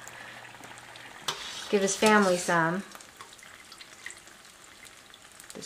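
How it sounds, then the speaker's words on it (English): Filipino lumpia frying in hot oil, a steady crackling sizzle that runs throughout, with a person speaking briefly over it partway through. "I'm done frying the lumpia that I'm gonna make for today"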